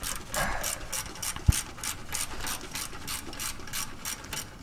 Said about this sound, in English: right now we're taking out the mount bolts